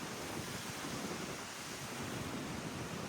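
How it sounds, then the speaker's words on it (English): Steady, broadband wind roars against the microphone at a caravan campsite, a constant rushing noise with no voices. "A bit windy though."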